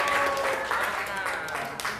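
Pupils in a classroom clap together in a brief burst of applause, mixed with voices and a high, sliding vocal tone over the clapping.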